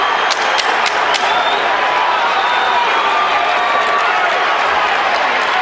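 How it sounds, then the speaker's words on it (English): Boxing arena crowd at the Floyd Mayweather versus Carlos Baldomir fight, a loud, steady roar of many voices with scattered claps near the start, continuing without a break. "Crowd boo him though."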